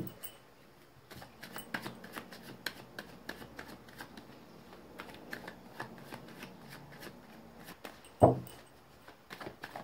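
Tarot cards shuffled by hand, a soft close riffle of quick papery flicks and taps, fairly faint and steady, with one sharper thump near the end.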